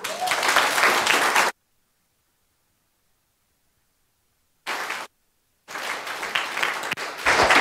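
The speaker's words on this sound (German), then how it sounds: "Das ist euer Applaus" Audience applause at a Jugend hackt Hamburg youth hackathon event, loud broadband clapping in bursts separated by abrupt silent gaps, resuming strongly toward the end.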